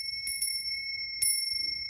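A small hand bell is struck three times, two quick bright dings followed by a louder third, each leaving a clear sustained ring in an otherwise quiet room.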